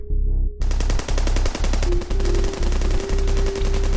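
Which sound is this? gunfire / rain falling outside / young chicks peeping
gunfire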